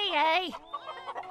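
Hen clucks and squawky fowl calls, close and loud, in a short agitated burst with a voice-like exclamation mixed in.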